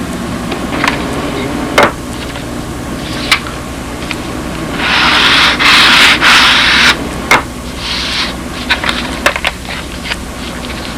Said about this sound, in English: Now it's just a question of trimming this all off, block sanding it in, and we have a half a stab.